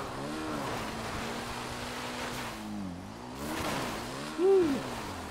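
A motorcycle engine in GTA 5 hums steadily as the bike rolls downhill, its pitch wavering and dipping, with a brief higher-pitched chirp near the end.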